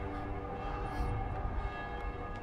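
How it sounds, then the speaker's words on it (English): Bell tolling in the video game Dying Light, a faint, sustained resonant ring set against a low rumbling ambient background, with one brighter struck tone around the middle. "The bell's ringing."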